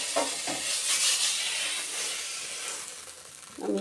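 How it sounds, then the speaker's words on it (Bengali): Eggplant frying in oil hisses and sizzles steadily, with a few soft clinks and stirring knocks at the start and end. "বেগুনটা ভাজা হয়ে গেছে, এখন লাল লাল করে বেগুনটা ভেজে নিয়েছি।"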